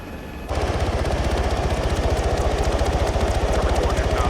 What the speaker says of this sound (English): Guys, I hear engines.